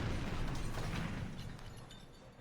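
An explosion in the game Danganronpa V3, a dense rumbling roar that rises at once and slowly fades over a couple of seconds, with no voices.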